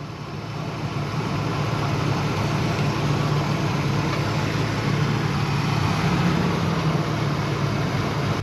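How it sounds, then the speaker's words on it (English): The 5.0 V8 engine of a Fox Body Ford Mustang, parked for over 10 years, idles with a steady, low rumble, holding an even, continuous drone throughout with no other sounds. "Listen to that. Even idling down perfectly."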